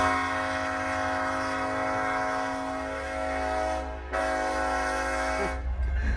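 Train moving through a rural road crossing in Michigan's Upper Peninsula, a loud sustained tonal horn blast held nearly throughout, briefly cut off, then resuming over rumbling rail noise.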